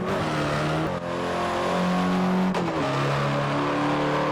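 A Hyundai Elantra N accelerates hard down a runway, its engine note loud and close, climbing steadily through the gears with a brief dip at each shift before pulling on again.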